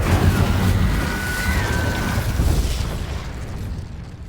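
Incendio fire spell cast in the video game Hogwarts Legacy, a loud roaring whoosh of flame that booms at once and then slowly fades over a few seconds.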